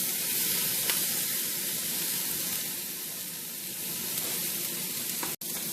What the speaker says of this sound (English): So we'll let these saute for a little bit as we make our omelette.